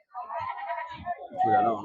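Goats bleat several times, close by, with a wavering cry near the end, at a busy goat and sheep market; no clear talk.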